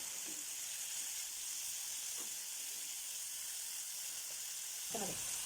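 A steady sizzle of beans frying in a hot pan for beans poriyal, with a few brief stirring scrapes, close by and without talk.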